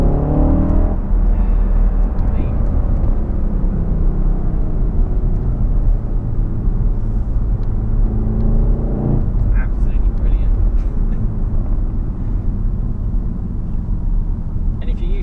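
A VW Golf R with a manual gearbox pulls hard through third gear, its engine a loud, continuous rising roar close to the microphone that drops briefly at a shift near the ninth second before climbing again, with no talk over it.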